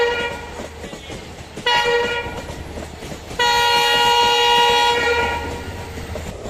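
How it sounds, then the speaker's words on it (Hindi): Indian Railways train horn sounding loud and close: a short blast, a second short blast, then a long sustained blast, with train rumble underneath throughout. "इसमें 2 छोटा और 1 बड़ा हॉर्न बजाया गया हो।"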